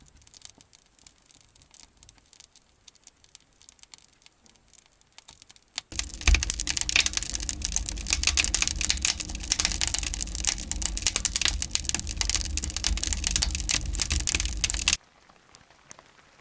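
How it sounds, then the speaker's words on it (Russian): Rain drumming on a shelter canopy outside a forest hut, a sudden loud dense patter that starts abruptly partway through, holds steady, then cuts off, after quieter light dripping. "Слышите, ребят, шум дождя."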